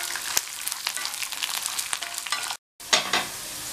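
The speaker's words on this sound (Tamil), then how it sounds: "5 பூண்டு நீல வாக்கில் கட் பண்ணது, அதை சேர்த்துக்கலாம். சேர்த்துட்டு இதை கொஞ்ச நேரம் வதக்கினா போதும்." Sliced garlic stirred and sautéing in a pan with urad dal and chana dal, a steady sizzle broken by scraping spoon strokes, with a brief cut to silence near the end before the frying resumes.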